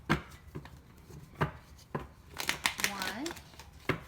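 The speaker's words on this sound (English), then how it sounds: "Give me 2 more shuffles." Tarot cards are shuffled by hand at close range, giving sharp riffling snaps and soft slaps in uneven bursts, while a voice speaks intermittently.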